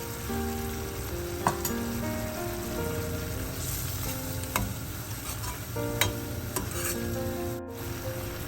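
Brinjal curry simmering in a pan just after thick coconut milk goes in, giving a steady close sizzle and bubbling with occasional sharp pops and clinks, no talking.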